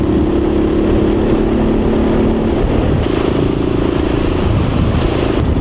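A dirt bike engine runs loud and steady at close range while the rider shifts gears, its droning tone dipping briefly and resuming as the gear changes, with no voices over it.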